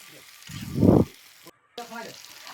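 Pointed gourd frying with tomato and spices in a pan, a brief loud burst of sizzle and stirring, then a gap and softer frying under a voice.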